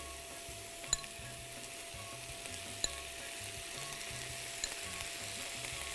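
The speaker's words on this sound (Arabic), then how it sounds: "هلأ منحط الصويا صوص" Noodles and vegetables sizzle in a wok as soy sauce goes in, a steady frying hiss with a few light clinks of utensils against the pan and no talking.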